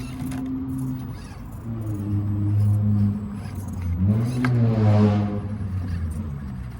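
An Axial SCX24 Jeep Gladiator RC crawler drives slowly, its small motor whining and rising in pitch in short bursts over a low rumble, close by with no talk.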